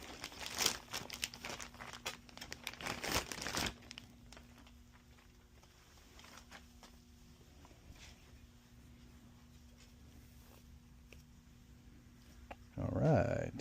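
On a 2004 Ducati Monster 620 airbox upgrade, packaging for an air filter is ripped open by hand: a loud crinkling tear up front, a quieter stretch of faint rustling, then another burst of crinkling at the end.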